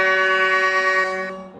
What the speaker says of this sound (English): Let's hear the train horns that we're exactly going to hear.